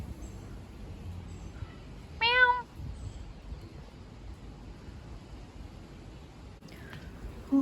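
A cat meows on a street on the way home in Sydney, one short clear call standing out against a quiet outdoor background hum, with a faint second sound near the end.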